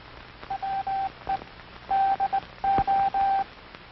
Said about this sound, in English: Listen to the sounds of the key. These sounds are transmitted in International Morse code.